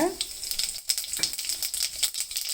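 Mustard seeds and cumin in hot oil, crackling and popping in quick irregular bursts over a sizzle, close and moderately loud with no one speaking.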